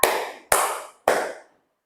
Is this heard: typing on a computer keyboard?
no